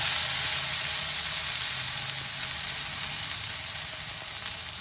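Shallots sizzling in hot oil with frying garlic, a steady, loud hissing crackle held throughout at close range with no talking.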